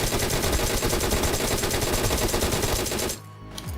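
Sustained rapid gunfire from the PUBG Mobile battle royale game, a loud, dense burst of continuous automatic shots that cuts off sharply near the end, leaving a brief quieter tail.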